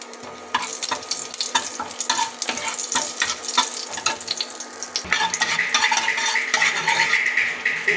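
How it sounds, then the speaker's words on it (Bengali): One cardamom pod and two pieces of cinnamon sizzle in hot oil as a tempering, a close, steady crackling fry with stirring and utensil scrapes; the sizzle swells louder and brighter toward the end. "দেখো তেল গরম হয়ে গেছে এবার ফোড়নে দেব একটা এলাচ দুটুকরো দারচিনি"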